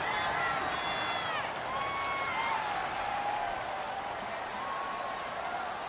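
Stadium crowd noise in Madden 19 during a Houston Texans vs. Jacksonville Jaguars game, a steady roar of cheering and clapping throughout, with a voice talking over it.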